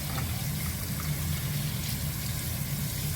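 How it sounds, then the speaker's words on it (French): Cold water runs steadily from a tap over cooked meat in a continuous hissing, splashing stream, close by with no talk. "On lave la viande un peu avec de l'eau froide."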